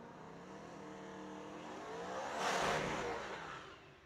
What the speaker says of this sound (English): Somebody got all the RPM band there out of the burnout box.